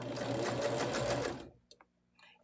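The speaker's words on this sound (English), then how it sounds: "And then we're going to sew everything together." A sewing machine stitching placemat sections together runs in a fast, even rhythmic chatter for about a second and a half, then stops, leaving faint clicks and small handling noises.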